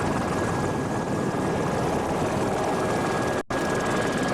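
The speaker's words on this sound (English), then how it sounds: "As you see that aerial shot from our helicopter pilot, Randy Riggs," A helicopter filming an offshore powerboat race in the Florida Keys gives a continuous loud rotor and engine roar with a steady hum, broken by one brief cut near the end.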